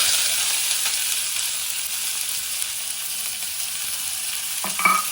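Onions frying in a non-porous AMC metal pan: a steady, bright sizzle that holds evenly throughout, with a brief clink of a utensil near the end.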